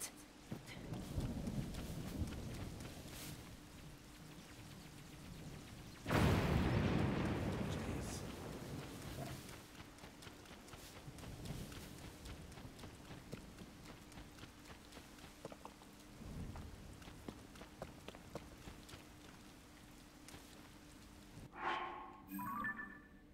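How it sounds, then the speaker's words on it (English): A rain-soaked thunderstorm in the video game Zelda: Tears of the Kingdom, with steady hissing rainfall and a deep rolling thunder burst partway through, while a voice speaks faintly at times. "There's a big storm here."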